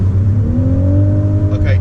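Lexus LC 500h from 2018 with a 3.6-litre V6 hybrid powertrain, its engine droning steadily with rising harmonics as it pulls, heard from inside the cabin with a brief brighter burst near the end.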